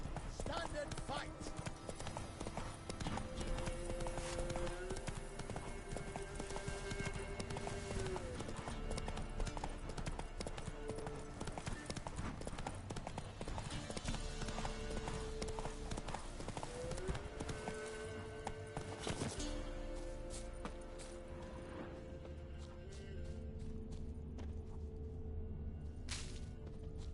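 Roach the horse gallops in The Witcher 3, the steady clip-clop of hooves running under layered game music and effects, with a voice speaking over parts of it and the hoofbeats thinning toward the end.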